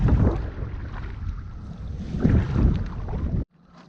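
Wind gusts outdoors by a lake beside a Prospector 17 canoe, a loud rumbling buffet on the microphone that swells and eases, then cuts off abruptly near the end.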